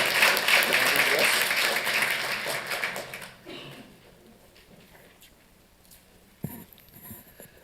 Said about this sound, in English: So round of applause, come on guys